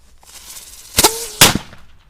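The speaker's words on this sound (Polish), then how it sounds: "taka słabiutka petarda, zobaczymy jak na sam, z samego rana zobaczymy jak petardo Bączek poradzi sobie z lodem" A small Bączek firecracker thrown onto ice goes off in two sharp, loud bangs about half a second apart, with a brief ringing tone between them and a quiet outdoor background.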